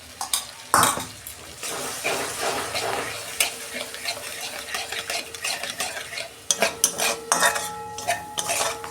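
Spice paste for an okra dish being stirred with yogurt in a pan over a low flame: repeated scraping and clinking of a metal spoon against the pan over a light sizzle, with brief quiet talk in places.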